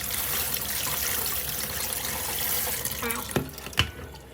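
Mushrooms are washed in water, with a steady running, splashing wash of water from a tap filling a sink, followed by a few brief sloshes near the end.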